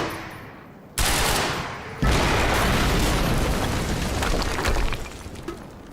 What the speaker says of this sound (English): now there are explosive barrels right up against it. So I'm guessing it wants me to shoot them?